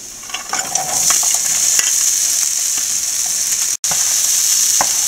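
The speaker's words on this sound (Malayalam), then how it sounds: "ഇനി നമുക്ക് ചെറുപയർ വേവിച്ചത് ഇട്ട് കൊടുക്കാം" Cooked green gram tipped into a sautéed mixture for cherupayar thoran, a loud steady sizzle with clattering stirring strokes early on and a spoon tap near the end, close up with no speech.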